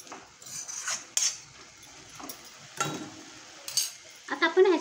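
Moringa leaf bhaji cooking in a pan, with a faint low sizzle under intermittent clinks and scrapes of a metal spoon, growing busier toward the end.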